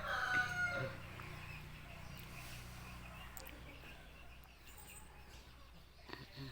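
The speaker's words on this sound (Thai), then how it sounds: "ขันอยู่นั่นแหละ" A rooster crows somewhere in a quiet rural outdoor setting, a faint, fairly distant call near the start followed by soft clucking and low background noise.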